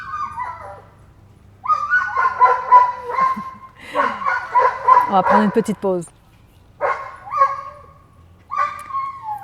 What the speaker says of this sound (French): C'est le chien de la voisine qui est tellement heureux parce que son maître arrive.